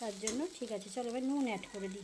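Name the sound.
poppy seed paste frying and being stirred in a pan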